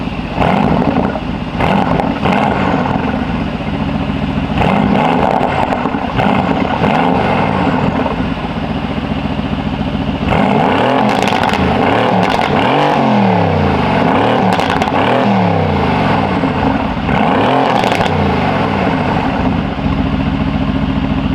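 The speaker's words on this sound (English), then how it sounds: "Yeah, I'll rev it." A Mercedes-AMG GT S fitted with a Valvetronic catback exhaust and downpipes revs hard in an empty parking lot. The engine roars loud and close throughout, with repeated throttle blips rising and falling.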